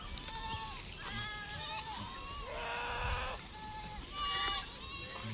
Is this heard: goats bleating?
yes